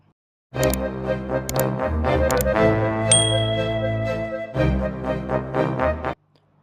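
A bright notification bell chime rings out over a loud, steady musical backing, a few quick tinkling notes standing out, with no speech.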